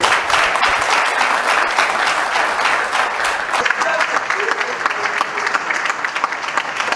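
Sustained applause from an audience at a press conference held by the governor of Lualaba, dense clapping filling the room steadily for several seconds, slightly thinning toward the end.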